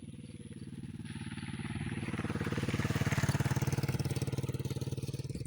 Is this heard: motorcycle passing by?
yes